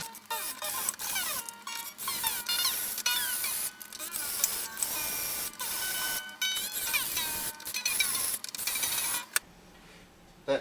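A Washburn Timbrewood WD-48S acoustic guitar has its strings slackened and truss rod turned, with close, busy ratcheting clicks, scraping and rubbing, and string tones gliding down in pitch, then a short pause near the end.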